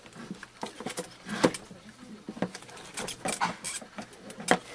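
Plastic retaining clips being popped and pried off a BMW E39 headlight lens during a repair, heard as a series of close, light clicks, snaps and rattling taps at uneven intervals.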